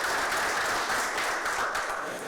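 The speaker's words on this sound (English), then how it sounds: "There was a lot of clapping, wasn't it?" Applause from an audience at a police induction ceremony, a steady, dense wash of clapping that holds at an even level throughout with no voices on top.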